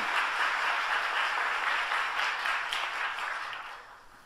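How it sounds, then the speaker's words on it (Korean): A congregation applauds at a Friday overnight church service, a dense, sustained roar of many hands clapping together that holds steady before easing off toward the end. "뜨겁게 영광의 박수 올리겠습니다"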